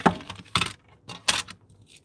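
A hot foil die and its plates are fed through a manual machine, giving three or four close, sharp metallic clinks and rattles spaced about half a second apart, with no talking.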